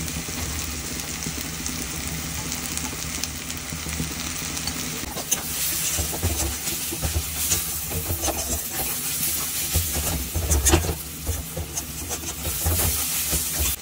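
Dried lote shutki (Bombay duck) frying in oil, a steady loud hiss and sizzle with stirring rubs throughout, close by, growing slightly louder midway.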